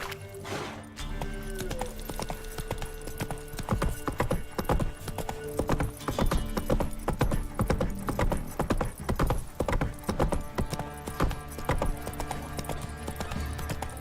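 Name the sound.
horse Roach galloping in The Witcher 3 video game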